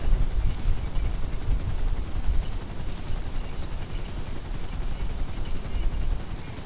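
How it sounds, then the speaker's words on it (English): Steady, loud rotor thump and engine roar of a video game helicopter throughout, dense low rumble with a rapid chopping pulse. "You didn't have to fly the helicopter."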